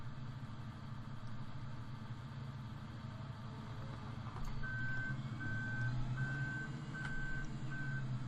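A farm truck reverses in Farming Simulator 2013, its steady engine idle rumbling beneath a regular series of sharp reversing beeps that start partway through and repeat evenly to the end.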